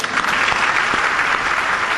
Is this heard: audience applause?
yes